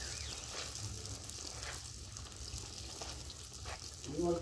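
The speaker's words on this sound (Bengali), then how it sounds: "দেখো কীভাবে ফুচকাগুলো আমরা ভাজছি।" Fuchka puris deep-frying in oil outdoors at a picnic, a soft continuous bubbling sizzle with faint crackles, fairly quiet and close, without talk.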